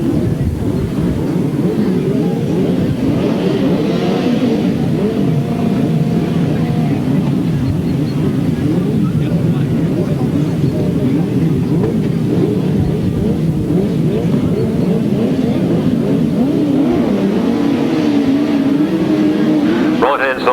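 Grasstrack racing sidecars roar around a track at a 1993 meeting, a dense layered drone of engines rising and falling throughout, heard from trackside with a public-address announcer talking over the noise.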